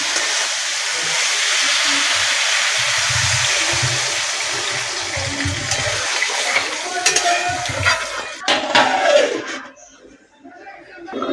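Fish curry with cauliflower and potato simmers in a covered pot, giving a steady bubbling hiss and sizzle. Clattering and stirring sounds follow near the end, then a brief quiet.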